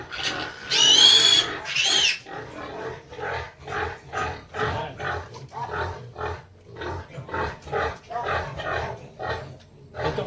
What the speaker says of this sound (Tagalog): Ito po si Tyson mga kabukals sa ating bagong magiging barako